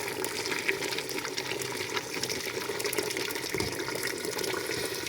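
Hot water pours into a cooking pot of simmering berkoukes with chicken, a steady close splashing and gushing that runs unbroken for about five seconds, with no talking.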